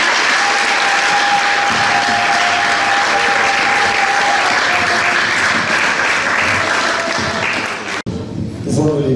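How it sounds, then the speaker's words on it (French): A church congregation bursts into loud, sustained applause that fills the room for about eight seconds, dense clapping close and far, before it cuts off abruptly and a voice begins speaking. "Acclamons pour la parole du Seigneur."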